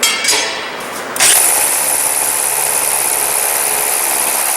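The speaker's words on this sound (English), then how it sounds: "this is a regular hammer drill with it's got a masonry bit on it" A regular hammer drill with a masonry bit bores rebar holes in laid concrete block. It starts abruptly and runs at a steady, loud, close whine and rattle for several seconds, with no talk.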